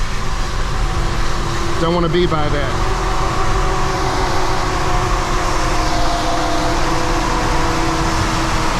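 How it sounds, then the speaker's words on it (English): Wet-road spray hissing up from a truck's tires, a steady broadband wash under continuous road and engine drone from inside a car, with a person speaking briefly near the start. "Hear all that water kicking up?"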